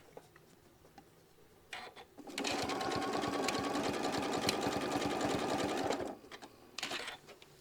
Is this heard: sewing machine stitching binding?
yes